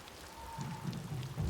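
Steady, faint rain patters in the Ghost of Yōtei video game, a soft continuous hiss with a low rumble building underneath, heard alone without talk.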